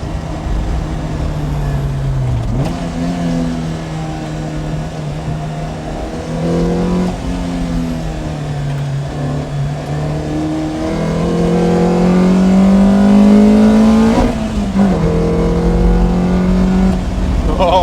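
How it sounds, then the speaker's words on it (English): A Lotus Elise S1 engine revs hard and accelerates, pitch climbing through several gear changes with brief dips between, loud and close throughout, building to its highest pull near the end. "That engine just rips up to the red line"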